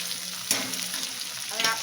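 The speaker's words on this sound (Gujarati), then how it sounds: "ટમેટા જ્યાં સુધી તળી ન જાય, પોચા ન થઈ જાય ત્યાં સુધી આપણે એને કૂક કરવાનું છે." Tomatoes sizzle and fry in a hot oiled pan for dal fry, a close, continuous crackle with brief scraping bursts as they are stirred.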